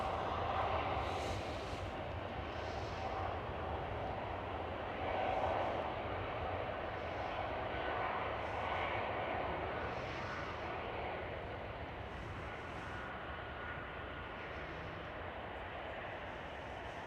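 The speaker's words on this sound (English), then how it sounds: "Next one up for a departure is KLM Cityhopper" KLM Cityhopper Embraer E195-E2 jet departing Amsterdam Schiphol, a steady, broad engine roar holding at a constant level throughout with slight swells, no talk over it.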